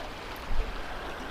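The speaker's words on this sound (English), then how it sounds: "we are at the North Fork Holston River" The North Fork Holston River on the Appalachian Trail, heard as a steady, broad wash of flowing water, fairly soft and even for a brief moment with one small bump, no voices.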